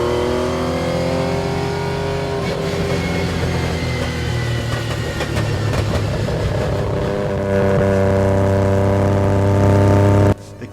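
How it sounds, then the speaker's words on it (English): MG Metro 6R4 Group B rally car with a V6 mounted behind the cabin, heard from inside as a loud, harmonic engine bellow that holds, then climbs in pitch before cutting off abruptly. "You've got a big V6 bellowing just behind your head."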